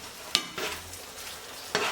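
Food sizzling and frying in a pan as it is stirred, with a couple of sharp scraping knocks from the utensil against the pan over a steady hiss, fairly close and moderately loud.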